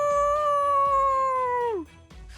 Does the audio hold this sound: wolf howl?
yes